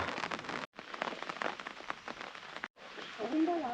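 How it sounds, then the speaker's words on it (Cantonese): Rain falls steadily on a karst mountain hiking trail, a close, dense patter with brief gaps. A voice rises near the end. "維維落雨啦"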